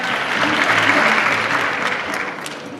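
Strong audience applause at a Supanova Perth cosplay contest swells to a peak then gradually thins out, dense clapping close and loud with a few scattered voices underneath.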